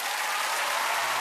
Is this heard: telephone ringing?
no